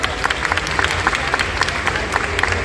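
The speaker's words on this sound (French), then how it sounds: "On peut les applaudir, s'il vous plaît." An audience at a Once Upon a Time fan convention panel in Paris applauds, a dense, steady patter of many hands clapping in a large hall.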